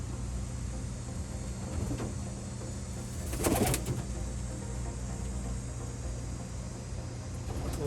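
Young white Rocky Ridge pigeons in a loft give soft, low cooing over a steady background hiss, with a brief brighter rustle of wings midway.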